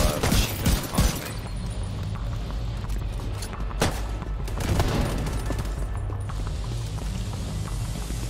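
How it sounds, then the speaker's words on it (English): Rapid bursts of small machine gun fire in a multiplayer shooter video game, loud and close, with dense crackling shots clustered early and scattered later over constant in-game rumble. "No, it's like a little, machine gun on me."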